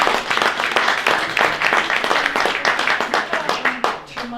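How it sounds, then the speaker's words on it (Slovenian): An audience at a book night event bursts into lively, close applause, dense rapid clapping that holds steady for several seconds before tapering slightly at the end. "mislim, da si zaslužite za to še en poseben aplavz"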